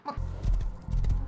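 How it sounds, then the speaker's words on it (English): A horse in a survival game clip-clops close by with heavy hoofbeats, and a short whinny sounds at the very start of the brief burst. "there's another horse here."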